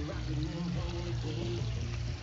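Water being pumped into a Sundance Altamar spa, a steady low rushing and splashing that holds even and unbroken throughout, with a constant mechanical hum underneath.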